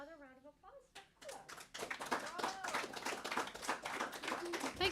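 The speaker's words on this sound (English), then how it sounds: "So another round of applause for" An audience at a Friday night concert claps for the performer. The clapping is moderately close and builds after a brief spoken moment at the start.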